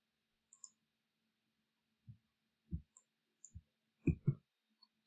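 Computer mouse clicks while working in 3D visualization software: a handful of soft, close, isolated clicks, some in quick pairs, spread over a quiet background.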